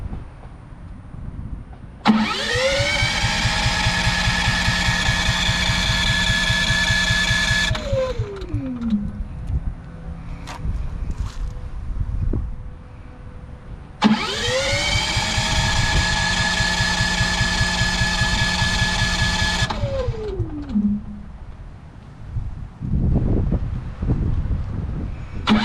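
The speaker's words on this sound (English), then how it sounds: "Hit the start button. It's gonna try to get all that air out, so it might do a couple starts" A GENMAX GM10500iETC generator running on natural gas through a 50-foot hose cranks over in two separate start attempts. Each is a loud, sustained whirring engine run that winds down, with a short pause between them and no talk.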